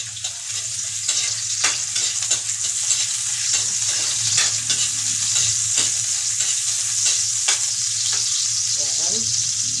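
Onion sautéing in hot oil for ginisang kalabasa, a bright continuous sizzle punctuated by regular scraping and tapping of a utensil stirring in the pan, close and clear with no speech.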